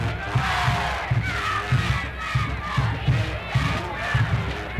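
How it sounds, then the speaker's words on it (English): A large crowd at a high school football game between the Bethel Bruins and Kecoughtan Warriors keeps up steady cheering and rhythmic chanting, with repeated pulsing shouts over a continuous roar. "Big crowd on hand for the game."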